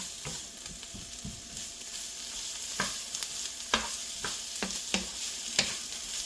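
Meat and vegetables for an egg scramble browning in a pan on medium heat, a steady sizzle with several sharp scraping stirs of a utensil against the pan, close and alone.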